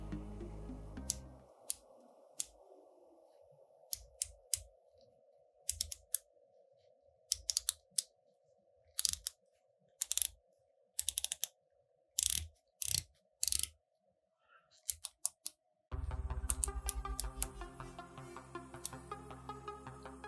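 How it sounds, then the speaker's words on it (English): The bezel of a Hamilton Frogman dive watch turns in a series of crisp, close clicks, spaced irregularly in short bursts against near silence before soft background music enters. "when you manage to turn that bezel, you get a direct, no backplay, smooth experience"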